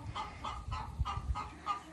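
Hens in a backyard coop in hot Arizona weather cluck and murmur softly in short repeated bursts. The sound is faint and close, with no voices.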